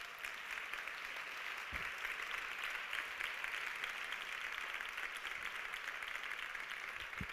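Audience applauding in a hall, dense continuous clapping that stays loud and even for about seven seconds, with no voices over it.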